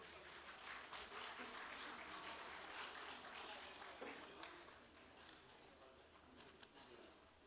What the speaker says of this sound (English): Please give everyone a warm round of applause.